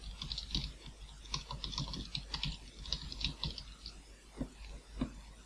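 Rapid, uneven key clicks from a computer keyboard tap out in quick bursts, faint and close, with no voices.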